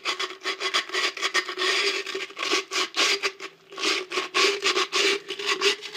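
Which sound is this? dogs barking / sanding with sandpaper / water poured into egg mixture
sanding with sandpaper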